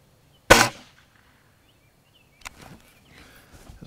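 An air rifle fires a single power pellet, one sharp close crack that decays quickly, followed by faint handling clicks and rustles.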